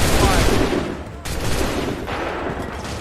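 A rapid burst of gunfire in a video game, loud and dense at first, then thinning after a brief break into scattered shots against a noisy battle background.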